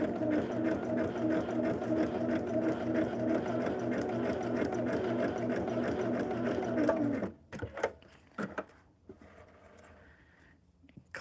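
A sewing machine runs steadily stitching quilt fabric, a close, even mechanical whir for about seven seconds before stopping, followed by light handling clicks and rustles.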